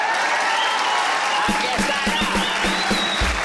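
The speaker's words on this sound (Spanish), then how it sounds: "un aplauso para hombre." A studio audience claps on a television talk show, steady applause joined midway by a thumping musical beat and a short spoken line.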